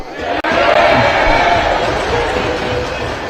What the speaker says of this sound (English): I must ask members to applaud you.